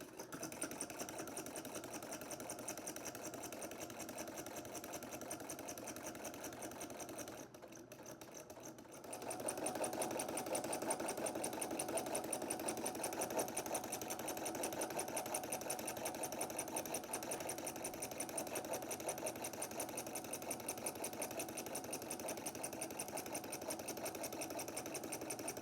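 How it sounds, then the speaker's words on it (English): A sewing machine running steadily while top stitching a fabric pocket, a quiet even mechanical whir that pauses briefly around the middle and then resumes at a constant pace. "Now this is just top stitching, so you can increase your stitch length here if you'd like."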